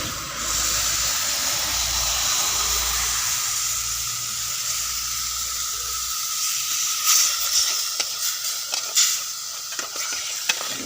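A fish curry with ground coconut hisses and sizzles loudly and evenly in the pot as tamarind goes in, then stirring adds scattered clinks and scrapes over a softer bubbling.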